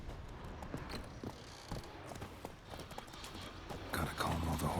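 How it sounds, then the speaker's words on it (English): Horses clip-clopping in The Witcher 3, a steady run of hoof knocks at moderate distance over a low game-world ambience, growing slightly louder near the end. "Gotta calm all the horses before they wake the guards."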